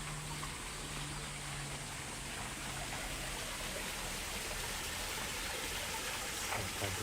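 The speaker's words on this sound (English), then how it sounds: "The water flows here and there. The overflow goes over there." Water runs continuously through a small shrine's channels on a Tokyo morning walk, a steady close splashing flow with no voices.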